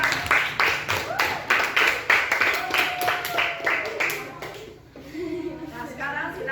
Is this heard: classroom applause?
yes